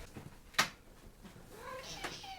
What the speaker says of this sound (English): I think my cat just spotted a bird or something. He's like meowing. He's kind of like huffing at the window.